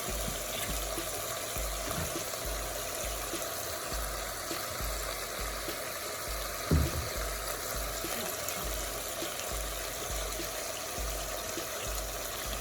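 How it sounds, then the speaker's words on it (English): Tap water runs steadily over vegetables being rinsed in a kitchen, a soft continuous trickle with a faint pulsing hum beneath it and one brief knock partway through. "rinsed them, I'm just getting rid of the excess water"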